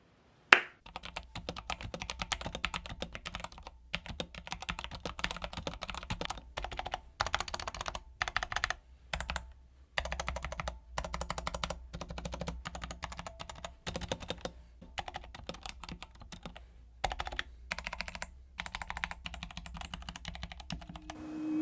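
Close, continuous typing on a mechanical keyboard with brown switches and white keycaps, bursts of quick clacky keystrokes separated by short pauses, with no one speaking.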